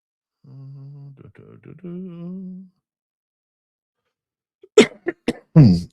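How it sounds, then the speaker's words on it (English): A drawn-out voiced vocal sound comes first, then after a pause a quick run of about four sharp, close coughs. "I don't know how this cough all of a sudden started for me"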